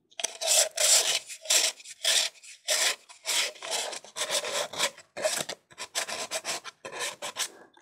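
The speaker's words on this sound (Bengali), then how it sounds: "এখন এটাতে আমরা এভাবে দিয়ে ঘষে নেব, যদি কোনো বালি থাকে তাহলে কিন্তু সেটা ঝরে পড়ে যাবে।" Rhythmic back-and-forth rubbing strokes on a handmade paper pen holder, loosening sand from its painted finish: close, raspy scrubbing bursts in an uneven steady rhythm, each stroke separated by brief pauses.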